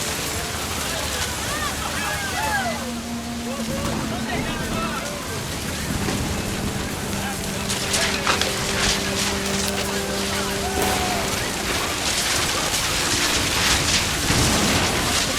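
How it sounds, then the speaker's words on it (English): Steady heavy rain hisses throughout, with low rumbles of thunder building toward the end and faint tonal sounds drifting underneath, from the video game What Remains of Edith Finch. "The rain came down in buckets then"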